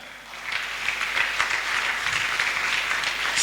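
A church congregation claps steadily, a dense, continuous patter of many hands at moderate distance, slightly swelling over a few seconds.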